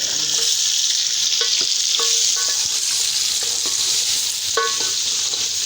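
Potatoes frying in hot oil for aloo matar pulao, a bright steady sizzle with scattered clicks and scrapes of a spoon stirring in the pan, close and loud with no talk.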